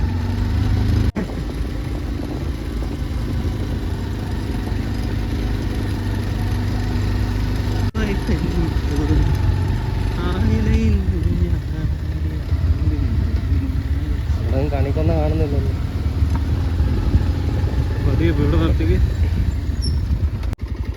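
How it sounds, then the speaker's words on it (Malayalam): A vehicle engine runs with an odd, loud, rough drone throughout, close and steady, while people talk over it. "വണ്ടിക്ക് എന്തൊരു വല്ലാത്ത സൗണ്ട് അല്ലേ"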